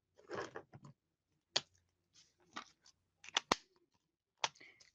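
Scissors snip a small paper flower out of cardstock, sharp crisp cuts coming in short irregular clusters separated by silent gaps, close and fairly quiet, with no voices.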